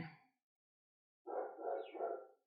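A dog barks a couple of times nearby, a short yip followed after a pause by a longer, rough bark.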